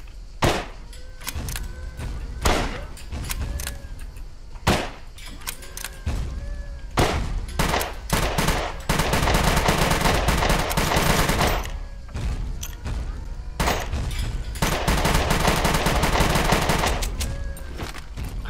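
Machine gun fire in the survival game SCUM: loud sharp shots in irregular bursts, some single cracks and some quick strings, with a stretch of sustained rattling fire midway, close and clear, no talking.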